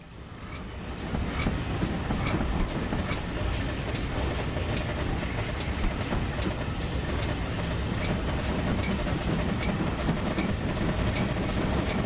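GWR King Class 6000 steam locomotive with carriages running steadily along the line, a continuous loud rumble with regular clicking wheel beats and a faint high squeal, no talking.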